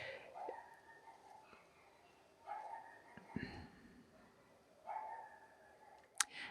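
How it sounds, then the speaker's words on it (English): Dogs barking somewhat distantly in the background, a few short bursts spread across the stretch, faint under a quiet room tone with low breathy voice sounds. "I don't know if you can hear my dogs barking in the background"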